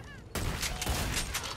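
A new DLC gun fires in a video game's Christmas Crackdown update, a sudden loud burst of rapid gunfire that carries on to the end after a quiet start.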